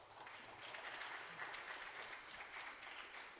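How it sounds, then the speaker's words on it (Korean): A church congregation claps together in a sustained, even round of applause, heard a little distant and fairly soft, with no pauses. "박수 한번 쳐줍시다."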